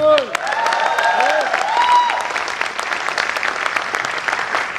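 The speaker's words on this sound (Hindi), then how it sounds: "दोस्त प्लीज तालियां ना बजाएं।" An audience at a training session applauds steadily, a continuous wash of many hands clapping throughout, with some musical tones and a voice faintly mixed in underneath.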